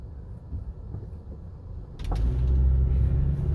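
Car with a suspension fault, heard from inside while driving and braking or accelerating: low road rumble, then one sharp clunk-pop partway through followed by louder, heavier driving noise.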